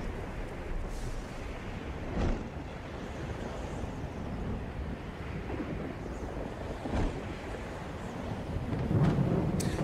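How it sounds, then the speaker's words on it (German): Thunderstorm ambience from the remastered video game Another World: a steady rumbling wash of rain and wind with a few soft distant thunder swells, growing slightly stronger near the end, with no speech. "Gewitter."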